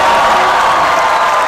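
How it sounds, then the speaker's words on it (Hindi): Audience applause at a comedy stage show, a dense steady wash of clapping from a large crowd, loud and close throughout. "तालियां।"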